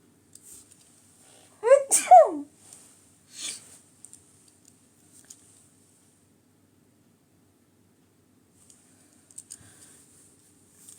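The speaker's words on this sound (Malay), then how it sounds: "Nak bersin." One sharp, close sneeze bursts out of near silence, followed by a smaller breathy sound and scattered faint clicks in an otherwise quiet room.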